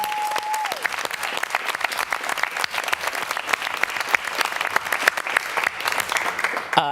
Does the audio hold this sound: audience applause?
yes